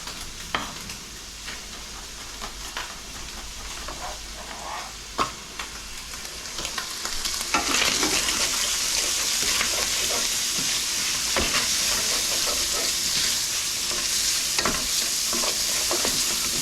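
Sausage for pasta with broccoli browns in a hot pan with a steady, close sizzle and crackle that grows louder midway, with occasional sharp spatters and stirring scrapes.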